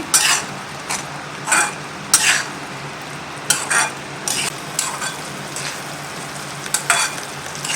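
Spoon or spatula repeatedly scraping and stirring a thickening coconut barfi mixture in a kadhai, irregular bursts of scraping strokes over a low steady background, fairly close with no talk.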